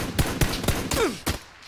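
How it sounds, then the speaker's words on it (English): Gunfire in the PUBG video game: a quick burst of about five or six sharp shots in steady rhythm, loud and close, with a brief whistling ricochet-like sweep midway. "I'm shooting."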